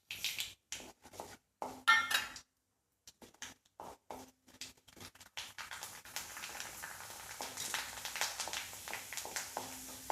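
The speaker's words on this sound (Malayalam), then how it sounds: "അരിമണിയും പൊട്ടി" Rice grains and mustard seeds pop in hot oil for a Palakkad-style Mulaku Varutha Puli. Sharp, scattered crackles and pops come in bursts with short gaps, then settle into a steadier, faint sizzling crackle.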